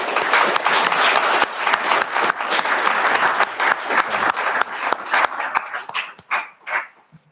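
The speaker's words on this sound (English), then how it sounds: "So can we get a round of applause for our Board of Education?" An audience at a school board meeting applauds the Board of Education with sustained, dense clapping that holds steady and then thins into scattered final claps.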